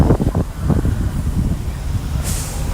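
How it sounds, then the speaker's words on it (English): Gusty wind blows outdoors beside a lake near a glass mosaic on an outside wall, a soft rumbling rush with a few louder buffets early on and a brief hiss at the end. "It's windy now."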